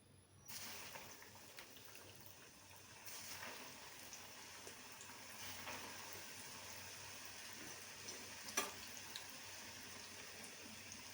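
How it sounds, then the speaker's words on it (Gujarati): Farali pattice frying in hot oil, a soft continuous sizzle and bubbling hiss that starts abruptly and holds steady, with one brief louder crackle partway through. "આપણું તેલ થઈ ગયું છે, તો આપણે તળી લેશું."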